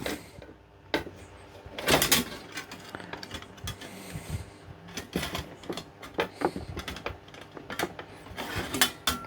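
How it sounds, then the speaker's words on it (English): The blade assembly of a vintage Brinsmead fan is worked out through its wire cage, giving irregular metallic clanks, rattles and scrapes, some sharp and close, spread throughout. "I think we can kind of wind the blades through it."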